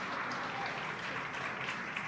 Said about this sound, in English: An eruption of applause here at SpaceX Mission Control.